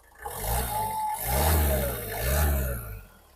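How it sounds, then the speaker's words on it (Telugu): The diesel engine of a 2018–2020 Ford EcoSport Titanium runs at idle and swells through two revs, a steady low rumble rising and falling nearby, with no talk. "సింగిల్ సెల్ఫ్లో బండి స్టార్ట్ అవుతుంది"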